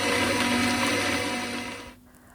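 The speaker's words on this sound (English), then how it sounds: "we blend all these ingredients in the blender" A kitchen blender whirs loudly as it blends soda, ice cubes, mint and ginger powder into a drink, a steady motor roar that fades and stops near the end.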